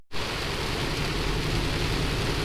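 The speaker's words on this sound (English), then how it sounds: "Well, it's raining." Steady rain heard from inside a truck on the road, a dense continuous hiss with a low rumble beneath, even and fairly loud throughout with no talking.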